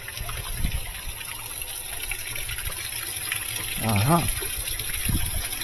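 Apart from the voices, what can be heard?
water leaking from washing machine inlet valve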